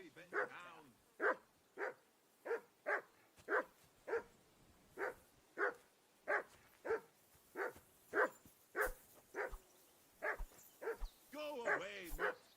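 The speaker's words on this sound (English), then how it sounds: "Be quiet, you flea bitten hound." A dog in the medieval video game Kingdom Come barks in a steady run of short, evenly spaced yaps, with a few whimpering whines near the end.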